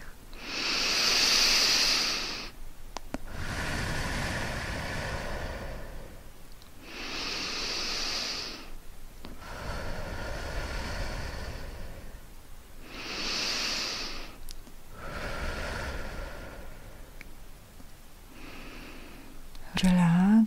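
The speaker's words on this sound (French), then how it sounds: "je vais effectuer 3 respirations profondes et longues" Three deep, slow breaths during a sophrology relaxation exercise, each long hissing inhale followed by a drawn-out exhale, close and clear, with a calm voice speaking softly between them.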